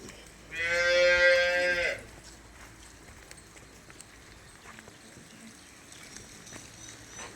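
A Nili-Ravi buffalo heifer at a farm gives one loud, close, drawn-out moo lasting just over a second, followed by quiet outdoor background with faint scattered noises.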